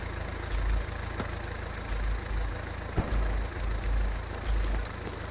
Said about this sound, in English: I can hear his engine idling.